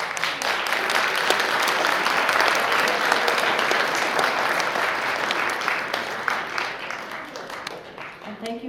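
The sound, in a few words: audience applause at a ceremony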